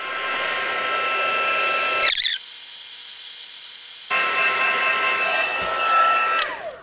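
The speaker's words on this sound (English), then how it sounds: "you're just going to take your heat tool and get going on that" A heat tool melts embossing powder on a stamped image: a steady, loud blower whir that cuts out abruptly for a couple of seconds, then starts up again and winds down at the end.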